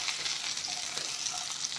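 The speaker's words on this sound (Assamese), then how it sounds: "এইখিনি ধুনীয়াকৈ ভাজি ল'ম" Brinjal and rohu fish pieces fry in hot oil in a pan for a curry, giving a steady, close, bright sizzle with light crackle throughout and no talking.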